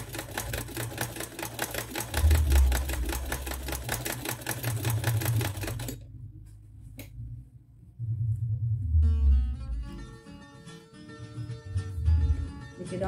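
An old sewing machine stitches in fast, steady mechanical bursts, its needle clatter and motor hum loud and close, stopping briefly midway before resuming with lighter ticking.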